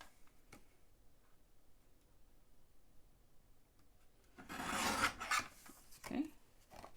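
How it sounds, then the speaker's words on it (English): Soft, faint handwork trimming a wooden shaker heart box piece to size, with a burst of raspy rubbing strokes in the second half after a quiet start with occasional small ticks. "So I'm going to trim it just a little bit."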